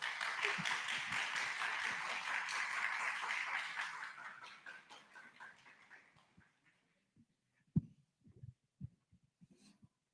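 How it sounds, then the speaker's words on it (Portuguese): Audience at a front-end development talk claps for the speaker, a dense burst of applause fading out over several seconds, followed by a few scattered isolated claps and thumps. "eu gostaria de pedir para todos aqui uma salva de palmas para a nossa palestrante, Mônica Hillman."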